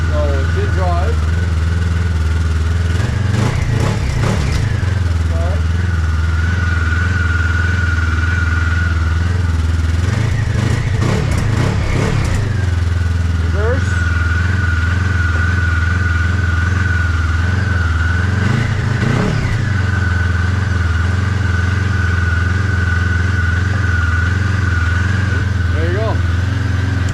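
A TF Venture Lite snowmobile engine idles steadily while shifted into manual reverse, with three rough revving swells rising over the drone and someone talking throughout.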